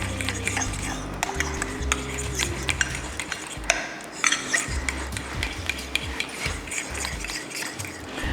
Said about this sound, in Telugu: ఇది కొంచెం ఫోక్తో చేస్తే చాలా బాగా వస్తుందన్న ఫీలింగ్, అందుకని ఫోక్తో కలుపుతున్నాను